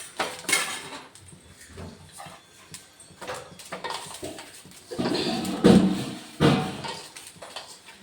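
Gram flour mixed in a bowl, with scattered clinks and scrapes of a utensil against the bowl in uneven bursts, close by, and a dog's whimper or bark faintly mixed in.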